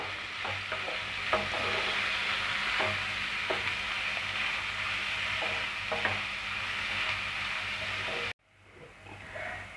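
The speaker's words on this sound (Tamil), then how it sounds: "வெங்காயம் நல்லா கோல்டன் ஃப்ரை ஆகிற வரைக்கும் வதக்கிவிட்டே இருப்போம்" Onions sautéing over a low gas flame until golden for tomato thokku, a steady close sizzle with scattered scrapes of stirring, cutting off abruptly near the end, no talking.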